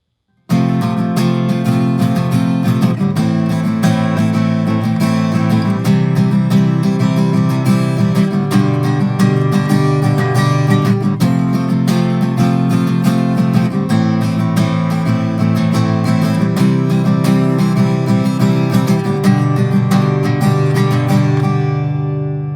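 A steady, continuous acoustic guitar chord progression from a song played alone, evenly loud throughout, with chords changing every few seconds.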